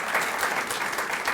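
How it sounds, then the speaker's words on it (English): Steady applause from an audience at a St. Paul Winter Carnival club gathering, dense clapping sustained without a break and fairly close. "Let's give them a round of applause"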